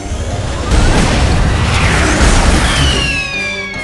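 A bazooka rocket blast from the cartoon game Looney Tunes World of Mayhem: a loud, close, rumbling boom that swells quickly and holds, with a whistling descending tone near the end.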